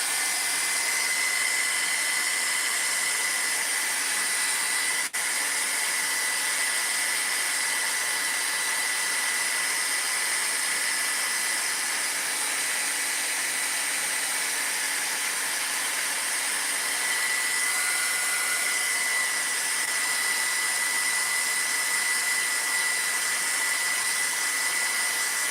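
A hair dryer blows on Mod Podge spray glue, giving a steady, loud, close whooshing roar with a high whine. It runs without pause the whole time, and there is a single faint tap.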